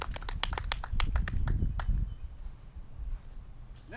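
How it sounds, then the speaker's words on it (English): Crowd applause after a golf shot at the Jacksonville Open: a burst of rapid, dense hand claps from a gathered gallery, strongest over the first two seconds and then thinning out into scattered claps and quiet outdoor ambience. "Crowd likes it."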